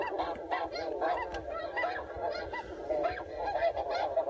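Geese honk repeatedly and loudly during a goose hunt, a dense overlapping chorus of calls that carries on steadily throughout with no talking.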